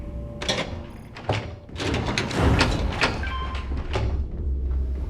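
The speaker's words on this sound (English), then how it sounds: "Atrium to cargo bay doors have been repaired." Heavy sliding cargo bay doors on a starship in the game Starfield rumble open with clunks, thuds and a sustained mechanical whoosh, loud and close.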